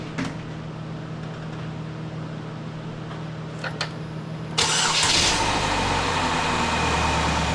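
A few clicks over a low hum, then the Ecotec engine of a 2005 to 2010 Chevy Cobalt cranks and catches after a timing chain replacement, settling into a loud, steady idle close by.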